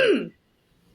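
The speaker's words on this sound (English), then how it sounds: "I really need to cough really hard right now." One short, harsh cough or throat-clear, close and loud, dropping to near silence after about a third of a second.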